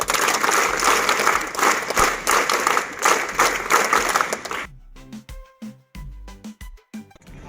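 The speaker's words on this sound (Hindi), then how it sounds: "हाथों पर लहराए स्वागत, ताली बजाएं" An audience at a Scouts and Guides day event claps in welcome, a loud continuous roar of many hands that abruptly thins to a few scattered, sharp individual claps before fading out.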